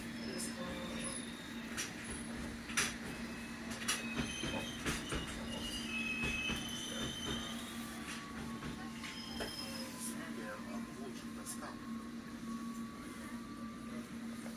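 A London Underground Hammersmith & City line train runs steadily with a constant low drone, scattered clicks and knocks, and a faint wheel squeal near the middle, with no speech.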